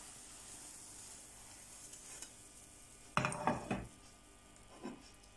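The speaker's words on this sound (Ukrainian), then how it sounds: "забираємо і смажимо наступні" Zucchini pancakes frying in a pan give a faint steady sizzle, joined by a few louder scraping and clinking sounds of a utensil against the pan near the end.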